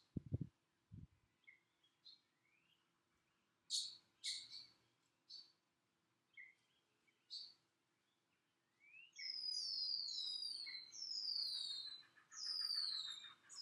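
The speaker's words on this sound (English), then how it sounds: "Little firework noises." Distant fireworks pop and crackle in scattered bursts with whistling, squealing rises, followed by a denser stretch of overlapping crackles and whistles, faint and far off.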